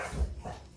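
A dog gives a short, close bark or two in a brief burst, loud against a quiet room.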